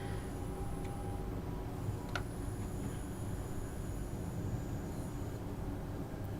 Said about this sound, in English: The amount of flanging getting on this, it sounds like we've just departed from